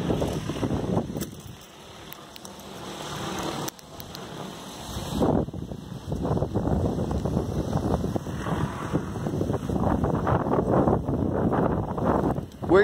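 Strong wind buffets the microphone outdoors near a small iSta Breeze wind turbine, a rough continuous roar with gusts swelling and easing throughout.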